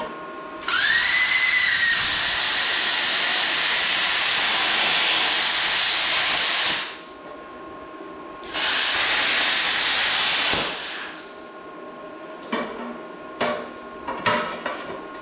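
A Vevor plasma cutter slicing metal gives a loud, steady, close hiss in two long bursts of several seconds each, separated by a short pause, followed by a few brief clicks and crackles.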